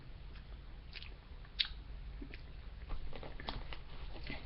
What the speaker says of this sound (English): I had to chew because I know my stomach will start growling any minute.